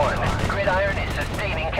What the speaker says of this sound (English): When artillery shells land across the valley, you actually get the sound delay.